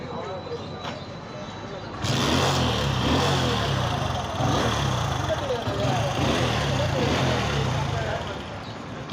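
Hero Passion Pro BS4 motorcycle engine kick-started and left running, a steady close idle rumble that begins abruptly after a brief quieter start and holds evenly to the end.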